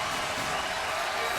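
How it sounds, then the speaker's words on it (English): Basketball arena crowd cheering at a college game between San Diego State and New Mexico, a dense, loud roar filling the whole moment. "Crowd into it."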